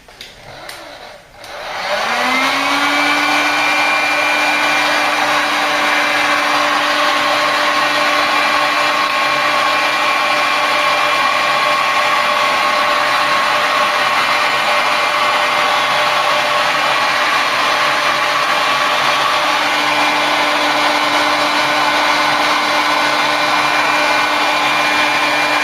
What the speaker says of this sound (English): Right, heat gun.